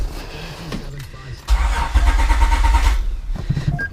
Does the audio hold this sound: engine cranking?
yes